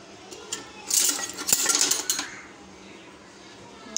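A spoon clinks and scrapes around a glass while cumin and cinnamon are stirred into a drink, with bright metallic rattles bunched over a couple of seconds, then the sound settles into quiet.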